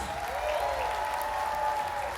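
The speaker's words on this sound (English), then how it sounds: "One more round of applause for all the performers," Audience applause for the performers at the close of a live show, a steady wash of many hands clapping without pause, with a faint tonal hum underneath.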